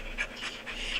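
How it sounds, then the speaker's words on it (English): A dog pants rapidly and excitedly up close, a quick run of breathy huffs repeating in an uneven rhythm against a steady low background hum. "my dog is just going crazy"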